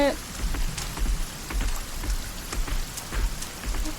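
Heavy rain pours steadily in the video game Sons of the Forest, a dense hiss of drops hitting surfaces with no pauses.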